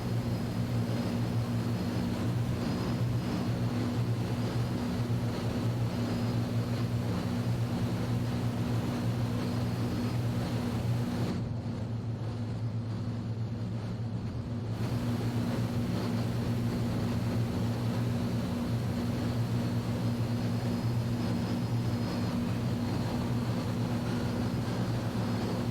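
Avro Lancaster bomber with its four piston engines droning steadily in flight, a loud, constant, deep multi-engine rumble that continues throughout with a brief dip partway through.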